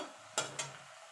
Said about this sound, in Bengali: বড়িটাকে লাল লাল করে ভেজে তুলে নেব